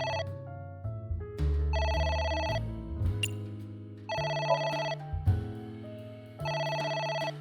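A telephone rings in the video game AI: The Somnium Files, with repeated bursts of an electronic ringtone over low game music and no talking.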